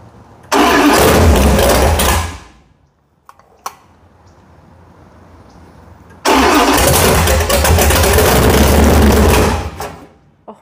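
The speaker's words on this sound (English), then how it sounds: "Oh my gosh, the whole car is rattling." A 512 cubic inch big block Mopar V8 engine cranks and roars to life, runs loudly for a moment, cuts out, then fires up again and rumbles heavily, rattling the whole car.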